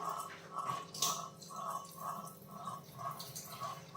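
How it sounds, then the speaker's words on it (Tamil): Water is drained off ragi and green gram that soaked overnight, heard as a rhythmic run of drips and splashes, close and moderately loud, with one sharper clatter. "இது வந்து இதில் தண்ணியை மாற்றிட்டு வந்துடுறேன்"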